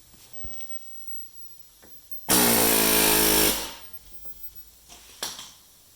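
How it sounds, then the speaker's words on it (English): Air hammer loosening the rear axle from the hub on a 2010 Mercury Mariner: one loud, sustained burst of about a second and a half rattles out close by, with a few faint clanks before and after. "loosen the axle from the hub using an air hammer"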